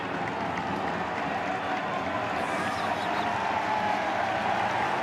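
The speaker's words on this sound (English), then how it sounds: "Does that constitute a Bronx cheer here" Spectators at an NCAA Baseball Championship super regional between Louisville and Miami give a mocking Bronx cheer after a ball rolls foul along the first base line, a loud, steady wash of crowd noise throughout.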